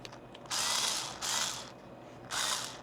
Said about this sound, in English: I really need a new drill. It's not even drilling.